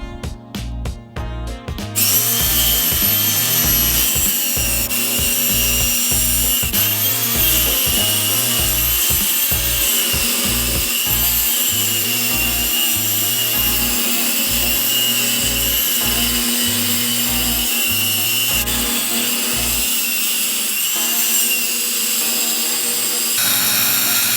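Saw cutting through a hollow-core wooden door, a loud continuous power-saw whine with a rhythmic pulsing drone that runs for about twenty seconds before slowing toward the end, with no voices.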